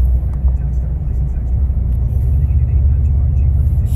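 Steady low rumble from a 2019 Ram 1500 Classic with a muffler delete and Y-pipe cruising at low RPM in a high gear. The drone is deep and constant throughout, close up from inside the cab.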